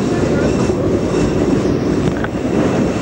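A Berlin tram from 1992 rumbles along the track in a dense, loud, continuous roar heard from on board, with low thumps from wheels crossing bumps and no talking.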